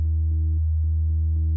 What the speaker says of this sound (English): I've now got a second René patched into the index input with the attenuator all the way up, controlling our FM amount.